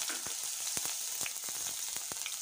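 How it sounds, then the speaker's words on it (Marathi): Cumin seeds and onion frying in a little oil in a pan, a steady close sizzle with a few sharp crackles and pops throughout. "मी एका पॅनमध्ये थोडंसं तेल टाकलेलं आहे. आता आपण इथे अर्धा चम्मच जिरा टाकूया आणि एक कांदा"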